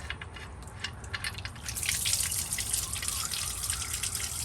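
Water drips and trickles steadily from a flood-damaged truck's rear differential, a close splashing patter that grows a little louder midway.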